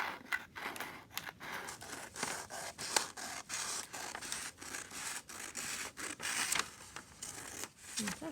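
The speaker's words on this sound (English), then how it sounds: "I'm going to use my scissors to cut all the way along it." Scissors snip repeatedly in a quick, steady rhythm, close by and fairly quiet, cutting a dressmaking sewing pattern, with a faint rustle of paper between cuts.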